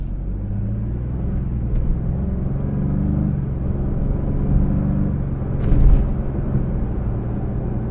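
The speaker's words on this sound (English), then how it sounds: "I want to be quiet so you guys could hear how good, like, how quiet this interior is" Inside a 2023 Ford Expedition Platinum, a muffled low engine and road hum drones steadily, with faint traffic noise outside and a brief swell near the end.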